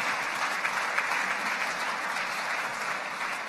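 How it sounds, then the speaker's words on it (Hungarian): Audience applause at a nature photography award ceremony, a steady, even patter of many hands clapping throughout, moderately loud with no voices over it. "Nagy tapsot kérünk neki."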